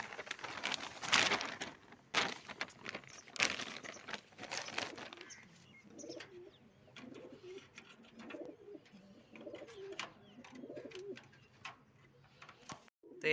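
Pigeons kept in a cage coo in soft, repeated throaty calls, fairly close. Sharp taps and rustles from the cage come first, and the coos then follow one another at a steady pace through the rest of the clip.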